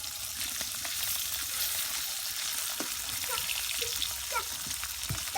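Small puti fish frying in oil in a pan, a steady broadband sizzle running throughout with a few faint clinks near the end.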